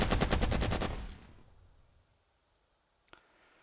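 A rapid burst of machine gun fire in the Burden of Command war game, about a dozen close, loud shots in quick succession that cut off and fade to near silence, followed by one faint distant report.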